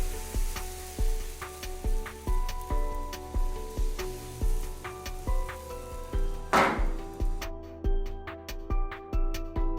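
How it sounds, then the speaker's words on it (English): Batter cooks in a hot pan with a quiet, even sizzle, set under rhythmic background music with regular soft beats. "One side is fried for 30 seconds and the other side is turned and cooked."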